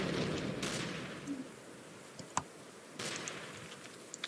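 Gunfire in a World War 1 video game: a burst of rapid shots at the start, then scattered single cracks and another volley, moderately loud with quiet gaps between.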